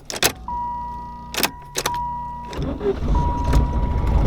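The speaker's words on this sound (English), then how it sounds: "just come out here and start the car whenever and it would fire up" A Chrysler TC 16v, a restoration project, with clicks and a tone, then its engine cranks and catches into a steady, close, rumbling idle that continues to the end.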